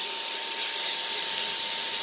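Beef chunks for beef burgundy sear in a hot pan with a steady, close hiss of frying that holds even and unbroken throughout.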